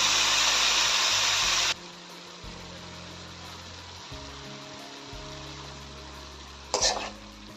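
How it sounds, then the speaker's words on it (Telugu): Washed cabbage tipped into a hot pan of oil with curry leaves and soaked chana dal, a loud rushing sizzle at first that drops to a softer steady fry, then a short burst of stirring near the end. "కడిగి పక్కన ఉంచుకున్న క్యాబేజీని దీంట్లో యాడ్ చేయండి"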